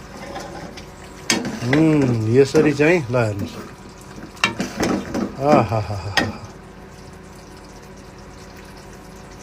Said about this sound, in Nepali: भर्खर भुट्न थालेको छु।